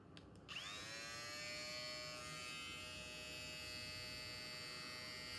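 A Kemei KM T402 single-speed electric shaver starts with a click and then runs with a steady, high-pitched buzzing whine at close range, with no talking over it.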